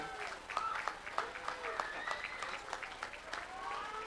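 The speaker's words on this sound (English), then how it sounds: "Give a round of applause to our past presidents from the Westside Nut Club." Spectators along the 2009 West Side Nut Club parade route in Evansville applaud past club presidents, a soft, steady patter of clapping heard from a distance with scattered voices over it.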